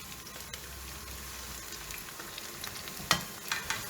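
Onions, red chilies and whole garlic frying in oil for mutton ribs kala bhuna, a soft continuous sizzle with a few sharp scraping clicks of stirring near the end; quiet and close.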